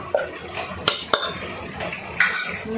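Cooked dal is mashed in a pot, a few sharp metal utensil knocks and scrapes against the vessel with soft stirring in between, fairly quiet and close.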